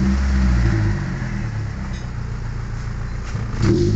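A Toyota Altis 1.6 engine with rough idle and delayed response is revved from about 950 rpm: a close, steady engine drone that swells briefly at the start and again near the end.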